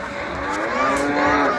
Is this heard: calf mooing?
yes